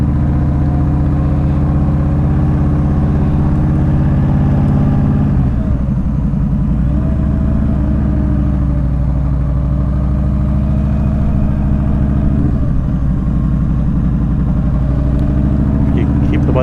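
A 2015 Yamaha V Star 1300 Deluxe motorcycle engine runs steadily at low speed in a parking lot, a loud, continuous deep rumble with slight surges, someone talking over it.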